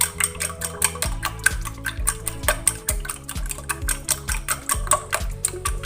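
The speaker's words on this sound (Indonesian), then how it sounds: "kocok telurnya." Eggs are whisked in a bowl with a utensil, rapid rhythmic clinking taps against the bowl's sides, close and fairly loud, steady strokes with brief variations in pace.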